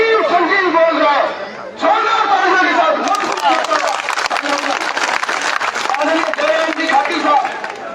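Loud crowd applause and cheering at a political rally for a politician in Rajasthan, opening after an amplified voice, then sustained dense clapping with shouting for several seconds.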